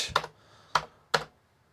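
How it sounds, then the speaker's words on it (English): Keys on a Commodore 16 computer keyboard are pressed in three separate, sharp clacks spaced unevenly apart. Close, fairly quiet and with no talking. "Slowly figuring out my way around the Commodore 16 keyboard"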